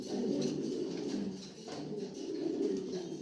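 A racer pigeon coos nearby in low, throaty, rolling phrases that swell and dip across the stretch, with no voices.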